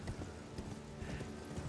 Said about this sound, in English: I gotta pull the horse out of my pocket.